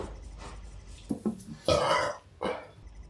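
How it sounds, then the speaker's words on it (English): A man after eating pizza lets out a few deep, close burps in short bursts, the longest in the middle, with quiet room sound between. "Oh, I could do a burp just to, settle things down."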